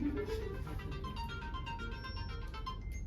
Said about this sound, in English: people calling me on my phone, sorry.